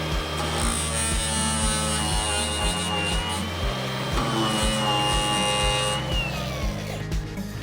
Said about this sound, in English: I'll be able to take this wheel with these inserts and run it along this weld, and it's gonna mill that entire weld off